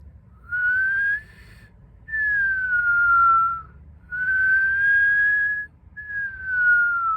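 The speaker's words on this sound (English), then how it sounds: "I'm actually whistling while I suck in and then whistling while I blow out" A person whistles on both the in-breath and the out-breath, giving four long, clear tones in alternation with short gaps between them, each gliding gently in pitch.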